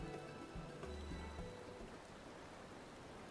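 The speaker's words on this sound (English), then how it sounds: "Just sitting out in the rain, huh?" Steady rain falls in Final Fantasy XIV, a continuous hiss of drops on surfaces that stays even and moderately soft throughout, with a faint low musical tone underneath early on.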